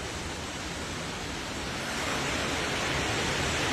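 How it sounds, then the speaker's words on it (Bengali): Heavy rain pours down on a flooded street in Chennai, a dense, steady broadband hiss that swells slightly louder midway, with no voices. "এত বৃষ্টি হচ্ছে"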